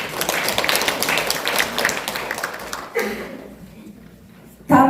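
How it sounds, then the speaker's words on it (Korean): Audience at a council members' award ceremony gives a short burst of applause that quickly dies out, leaving near quiet before a sudden louder sound at the very end. "이재명 당 대표님께 다시 한번 뜨겁게 박수 드리겠습니다"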